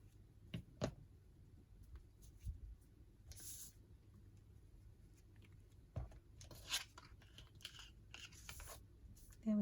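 Scissors snip through paper in short, scattered crisp cuts with soft rustling in between, faint and close in a quiet craft room.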